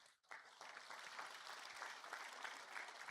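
A church congregation at a Sunday service breaks into applause, a faint, dense patter of many hands clapping steadily at a distance for a few seconds.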